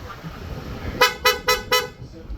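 Four short, bright toots of a Honda ADV160 scooter horn in quick even succession, fairly loud and close, over a low background rumble.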